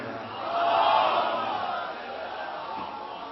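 A crowd at a religious celebration for the Imam of the Age in Lucknow raises a collective chant of salawat, a swelling roar of voices that peaks early and then holds at a steadier level.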